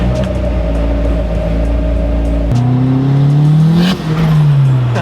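Honda Civic EG hatchback fitted with a screamer pipe exhaust, a loud close engine rumble that steps up into a rising rev, then eases back down as the pitch falls.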